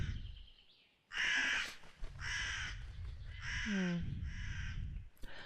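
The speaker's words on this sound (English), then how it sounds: "I didn't even see the crow there." A crow in the video game The Fabled Woods gives several loud, harsh caws in a steady run, close by and clear, with no talk over them.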